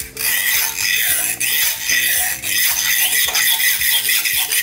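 A worn-out wood saw, retired from construction work, scraped as a Junkanoo rhythm instrument, giving loud continuous rasping strokes in a steady repeating pattern with brief breaks, heard alone without talk.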